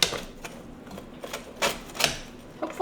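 A knife or pizza cutter slicing through a homemade meal-prep pizza crust, giving a run of close, sharp crunching clicks and scrapes at irregular intervals with no talking.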